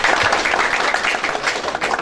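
Audience applause welcoming guests at a youth inclusive-city initiatives event, a dense steady patter of many hands clapping throughout, fairly loud and even with no voices over it.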